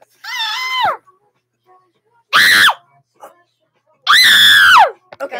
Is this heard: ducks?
no